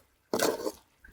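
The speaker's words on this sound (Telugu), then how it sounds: "నీళ్ళు కొన్ని పోసి" Water poured into a pan of village-style chicken curry with tamarind, a single short splashing pour lasting about half a second, close and fairly loud, then quiet.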